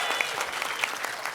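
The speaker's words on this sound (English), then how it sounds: "Can we just give another round of applause to our" Audience applause at an adult secondary education graduation ceremony, a steady dense wash of clapping from a crowd filling the short moment without talk.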